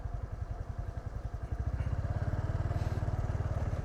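Motorbike engine putters close and loud in a fast, even rhythm while riding around on a hot day, the pulsing beat quickening slightly partway through.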